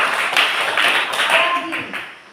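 A class claps hands together in a Catholic religious education lesson, a short burst of close, bright clapping that fades out within about two seconds, with a voice briefly heard alongside.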